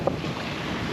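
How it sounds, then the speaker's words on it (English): A sailboat under sail with its engine off, in light wind: a brief, steady wash of wind rush and water noise with no motor sound. "now we're sailing with the engine off"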